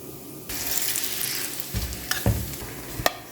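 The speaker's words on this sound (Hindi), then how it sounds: "अब इसे फ्राई करेंगे, इसे पलट देंगे।" A large paratha frying in oil on a pan, sizzling steadily with a few sharp louder crackles and spatters near the end, close and without speech.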